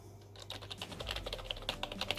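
Fast, soft typing on a Corsair K55 RGB membrane gaming keyboard, a steady patter of muffled keystrokes close up and fairly quiet, with no talking.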